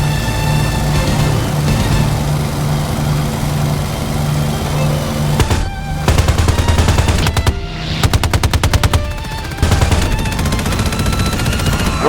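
Rapid bursts of heavy automatic cannon fire from a Bf 109 G-10 fighter in War Thunder over a constant roaring engine drone, several rattling volleys in the second half.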